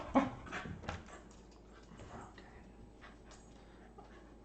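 An excitable pet dog whimpers and pants indoors, faint high whines and breathy sounds coming in scattered bursts against a quiet background with low room noise.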